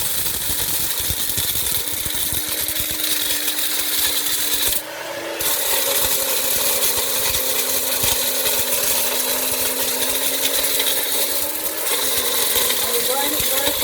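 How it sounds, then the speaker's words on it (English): A Magic Bullet blender roars continuously as it grinds ingredients for an immune-boosting drink down very fine, with a brief dip in the motor's pitch midway before the loud, steady whirring resumes. "So that's what I'm gonna be doing, using the magic bullet."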